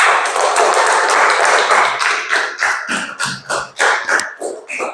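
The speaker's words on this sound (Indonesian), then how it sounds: "Beri tepuk tangannya." A classroom group claps after a student presentation. The dense clapping fades into fewer, separate hand claps spaced by short gaps, moderately close and with no talking.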